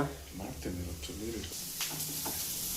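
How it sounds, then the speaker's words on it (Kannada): Carrots and beans fry in a pan with a steady hiss, while a voice talks over the first half and the sizzle carries on more openly afterward. "ಇನ್ನು ಕ್ಯಾರೆಟು, ಬೆನೀಸು ಸ್ವಲ್ಪ ಇದನ್ನ ಫ್ರೈ ಮಾಡುವ"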